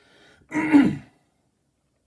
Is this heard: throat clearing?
yes